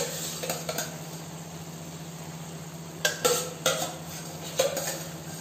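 Cooked macaroni pasta is tipped into a pot and stirred, a few sharp metallic clinks and scrapes of a spoon against the pot over a low steady background hum.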